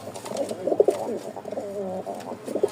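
Giribaz pigeons coo softly and repeatedly nearby, their low throaty calls overlapping in a loose rhythm, with no voices over them.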